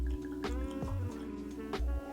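Teeling Wonders of Wood Volume 3 Virgin Swedish Oak whiskey poured into a copita glass, a close, soft gurgling pour with small glugs lasting about two seconds over a steady tonal background.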